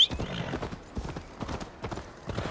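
Horse hooves clip-clopping in the video game Assassin's Creed Valhalla, a steady, close rhythmic trot of distinct hoof beats, with a faint whinny at the start.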